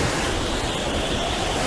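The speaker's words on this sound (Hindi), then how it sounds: "ये तो बड़ा ही जोरदार तूफान है।" A violent storm at sea in the Naruto Shippuden anime: a loud, unbroken roar of crashing waves and wind fills the scene, close and dense, with no pause.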